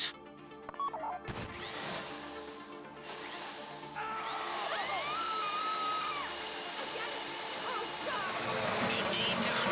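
Mechanical drill whine in a GTA 5 Online Fleeca bank heist, a steady grinding drone that builds louder after a few seconds and holds with a wavering pitch, with game effects and voices underneath.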